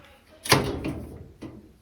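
A single sharp door-like clunk as the front cover of a gas dryer door snaps shut, followed by a softer knock about a second later, with no talking.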